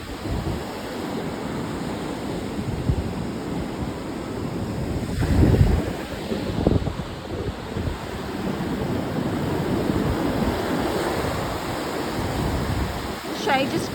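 Ocean waves wash and break onto a beach in steady surf, with wind buffeting the microphone and a couple of louder surges midway.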